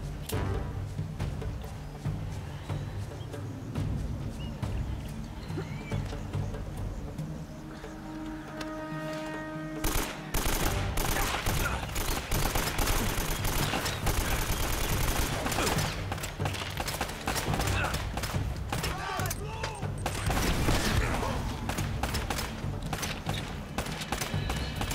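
Gunfire in the video game Uncharted: Drake's Fortune, a dense rapid barrage of shots erupting after a quieter stretch and continuing loudly to the end.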